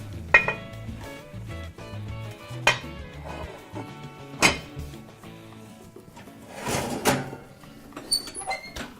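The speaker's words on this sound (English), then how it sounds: "the lid goes back on." A metal lid is set back onto a bread baking pan with oven mitts, producing a few sharp clanks and clinks spaced seconds apart, followed by lighter rattles and scraping between them.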